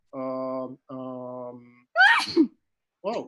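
A single sharp sneeze bursts out loudly after two sustained, droning vocal tones, followed by a brief breathy voice exclaiming; close and alone, in a quiet indoor setting during an online film-club conversation.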